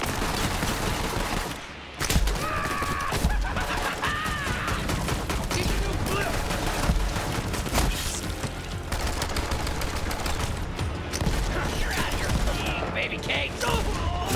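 Shotgun fire in the video game Borderlands 3, heard as repeated loud, booming blasts among a busy, continuous stream of combat sounds, with a voice talking over the action.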